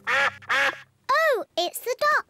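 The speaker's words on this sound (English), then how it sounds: "Oh, it's the ducks." Cartoon ducks in a Peppa Pig episode give a few loud, close, drawn-out quacks, spaced in short bursts with gaps of silence between them.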